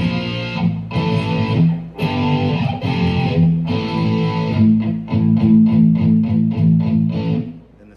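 Electric guitar plays a riff with a distorted, palm-muted tone, rhythmic chugging chords in short bursts that speed into quick repeated stabs, close and loud with no talk.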